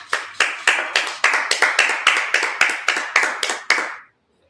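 A group clapping hands during a Sabbath service, about a dozen loud, crisp, evenly spaced claps in a steady rhythm that stop abruptly after roughly four seconds, with no talking.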